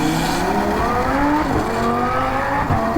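A Lamborghini speeds through a residential neighborhood, its engine tone shifting and rising in a loud, continuous roar with a brief tire squeal near the end, no voices.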